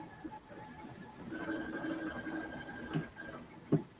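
A model 5200 sewing machine hums as it stitches along the bottom of a zippered pouch, a quiet steady motor whir with a couple of faint clicks near the end.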